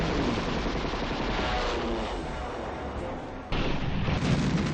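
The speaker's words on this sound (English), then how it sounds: "That is powerful artillery." Heavy artillery fire in the Panzer General 2 war game, heard as a sustained, loud rumbling barrage with a sharp jump in intensity near the end.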